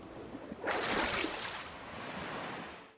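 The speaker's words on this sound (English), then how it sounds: "I cut a submerge-emerge sound effect and layered that with a general looping ocean wave sound effect to get this." Visual novel game sound effect built from a submerge-emerge splash layered over looping ocean waves: a quiet lead-in, then a broad rushing wash swells up and holds steady before tapering off, with no voices.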